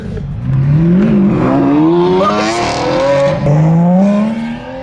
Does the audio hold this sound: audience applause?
no